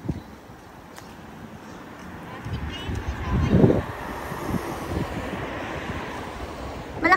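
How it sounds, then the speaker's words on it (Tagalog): Gusty wind buffets the microphone with a low rumbling roar that swells in the middle of the recording. "Malakas yung hangin"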